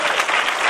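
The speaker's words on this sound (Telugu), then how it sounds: "అందరూ చప్పట్లు కొడుతూ దేవుని కనపరుస్తామా?" A church congregation clapping hands during a Christmas service, a brief burst of dense, loud applause filling the room.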